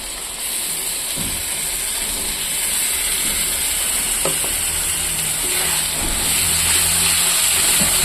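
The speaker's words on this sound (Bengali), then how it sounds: "তখন একটু ভাজা ভাজা করবো।" Spices frying in a pan with a little oil, a steady close hiss and sizzle with occasional faint clicks of stirring, continuous and alone without talk.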